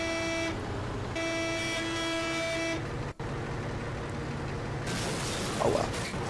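In the video game Bussimulator 2008, a bus sets off with a low, steady engine rumble under sustained tonal horn-like notes that cut in and out, followed by a sharp click and a brighter hiss near the end.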